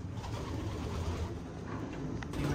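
Pigeons in a racing pigeon loft coo softly and steadily, low murmuring calls overlapping throughout against a faint background hum.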